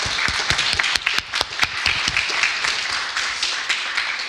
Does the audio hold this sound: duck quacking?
no